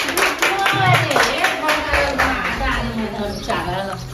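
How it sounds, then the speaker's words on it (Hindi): Hand clapping during a comedy sketch, with sharp claps breaking through lively talking voices for a few seconds, near and loud. "ताली पीटो ताली पीट"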